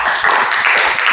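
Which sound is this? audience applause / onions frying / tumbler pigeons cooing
audience applause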